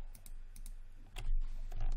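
Keyboard keys pressed during 3D modeling work on an 1873 Winchester rifle, giving a few scattered, close clicks and taps over a low steady hum, with a busier burst of key presses toward the end.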